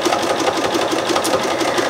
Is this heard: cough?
no